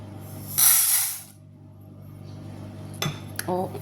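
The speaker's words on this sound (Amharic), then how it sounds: "እዚህ ጋር ሁለት ብረት ድስት አለኝ። እዚህ ጋር ሀባ ሐምራውን ጨምራለሁ።" Metal cooking pots being handled in a kitchen while haba hamra is added, with a bright scraping clatter early on and then a few sharp clinks and knocks near the end.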